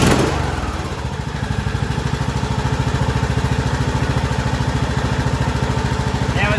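A Craftsman T2600 lawn tractor engine starts up on choke and settles into a close, loud, evenly pulsing idle that runs steadily for several seconds.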